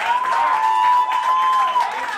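Comedy club crowd applauds for a stand-up comedian, a continuous dense patter of clapping with a sustained tone or hum beneath it, fairly loud and unbroken.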